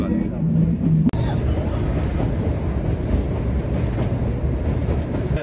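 The Kalka–Shimla toy train rolls along the mountain rails, a loud, continuous rumble and clatter heard from inside the carriage, with a brief sharp jolt near the start.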